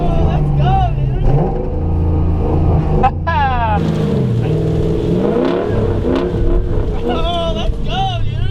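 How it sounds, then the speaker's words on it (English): A drift truck revving hard while sliding through snow, the engine note rising and falling in repeated surges, loud and close, with excited voices talking over it throughout. "Oh, the drift truck's drifting!"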